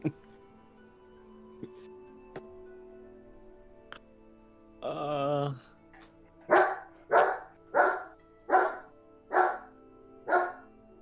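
A puppy barks in a quick, loud, evenly spaced run of about seven sharp yaps, preceded by a longer whining yelp and a few faint clicks in an otherwise quiet room.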